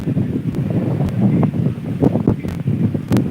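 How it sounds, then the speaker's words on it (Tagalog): Steady wind buffeting the microphone by the sea, a constant roaring rush with occasional sharp gusts and knocks, loud and close. "Napakalamig. Napakasarap ng hangin."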